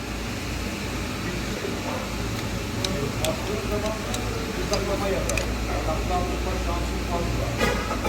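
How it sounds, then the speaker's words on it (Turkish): A worn water pump on an idling Opel Corsa D 1.4 petrol rattles with a steady mechanical clatter under a constant engine hum, heard close with faint background noise. "Takır takır ses yapıyor rolantide."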